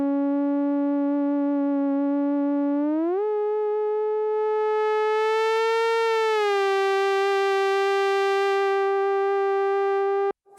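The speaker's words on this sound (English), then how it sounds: "The ribbon can work, of course, as a pitch bend, but also as a theremin." An ASM Hydrasynth synthesizer's ribbon controller, played like a theremin, gives a steady, clean, buzzy tone that glides upward around a third of the way in, bends again midway, then holds on its own until it cuts off abruptly.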